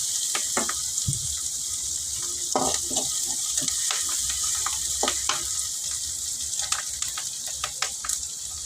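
Spices tempering with asafoetida crackle and splutter in hot oil, a steady close sizzle dotted with irregular sharp pops.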